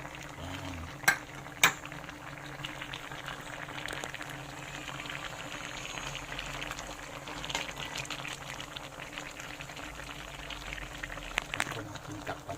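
Eggplant goes into a pan of Bicol Express cooked with kamias, with a couple of sharp utensil clinks, then a steady bubbling simmer under a cook talking throughout.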